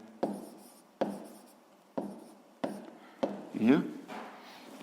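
Pen writing an answer on paper during a sixth-grade math exercise: close, distinct scratchy strokes in regular bursts about every second, with a longer scribble near the end.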